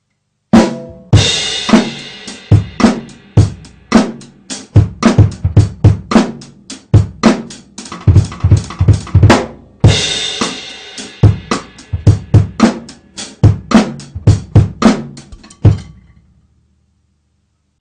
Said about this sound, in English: a nice simple cross stick groove, or with a backbeat in there as well.